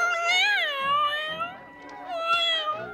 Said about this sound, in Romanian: E doar o pisică sălbatică, mai mult nu știe.